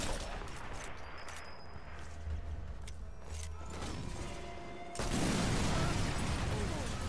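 Gunfire and a sudden explosion near a truck in the video game Sniper Elite 4, a loud broadband blast erupting around five seconds in and sustaining a rumbling roar after quieter ambient game sounds.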